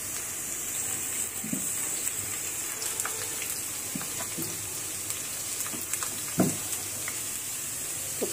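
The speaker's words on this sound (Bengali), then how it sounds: "পেঁয়াজটা ভাজা হচ্ছে" Onions frying in a pan give a steady close-up sizzle with scattered small pops and crackles, and no voices.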